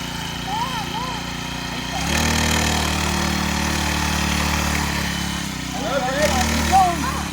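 A small mini bike engine idles and revs steadily as a child rides it, the motor droning at moderate loudness throughout while an adult coaches over it.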